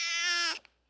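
A single cat meow, loud and close, a drawn-out harmonic cry of about half a second that ends abruptly, followed by a faint short trailing sound.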